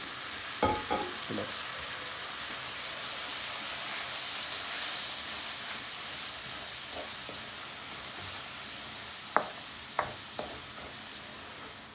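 Spices frying in a pan with turmeric for a Bangladeshi egg curry, a soft continuous sizzle with a few sharp clicks and utensil knocks, close and with no talk.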